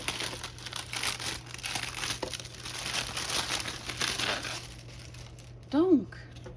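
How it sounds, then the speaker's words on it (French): Crinkly paper wrapping is unwrapped from cross-stitch fabric, with continuous close crumpling and rustling, and someone briefly speaking near the end. "Et notre toile est emballée dans un autre petit papier."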